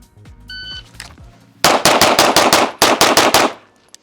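An OA Defense 2311 Pro 5-inch pistol fired during fast target transitions at about four to five yards, with two quick strings of sharp, loud shots in rapid rhythm, briefly broken by a pause, after a few faint beeps.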